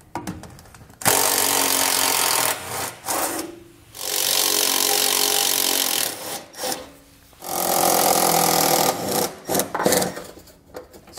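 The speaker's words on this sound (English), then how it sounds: "So we're going to get an 8mm socket. We'll go ahead and remove the screws now." A socket ratchet on a 2012 Ford Edge works out the screws of a trim panel. It makes repeated bursts of loud, close ratcheting and scraping, separated by short pauses, with no voices.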